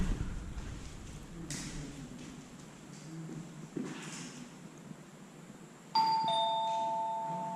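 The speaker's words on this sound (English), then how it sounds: "we're testing out the front doorbell to the gate in the front" An electronic doorbell at a front gate chimes once, ringing out clearly and lingering over faint outdoor wind and background noise.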